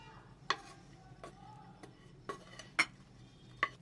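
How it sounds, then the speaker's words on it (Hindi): A spoon stirring a chicken and egg filling in a bowl, making about five distinct clinks against the bowl at irregular intervals, fairly soft over a quiet kitchen background. "अब सब चीज़ों को अच्छे से मिक्स कर लेंगे।"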